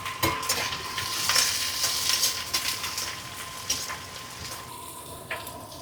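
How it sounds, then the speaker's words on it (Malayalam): Green chilli, ginger and garlic sauté in a pan at an outdoor riverside cooking spot, giving a steady close sizzle broken by the scrape and clatter of stirring, with no talk. "ഇഞ്ചി, വെളുത്തുള്ളി എല്ലാം കൂടെ ഒന്നിട്ട് വഴറ്റിയെടുക്കാം."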